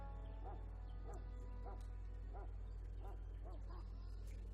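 A dog in the game Dragon Age Origins yips and whimpers in a steady series of about seven short, faint calls over a constant low hum, with no speech during the calls.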